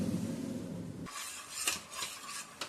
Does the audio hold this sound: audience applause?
no